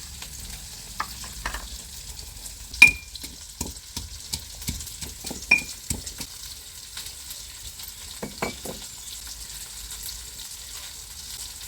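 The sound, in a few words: onions sautéing in a pan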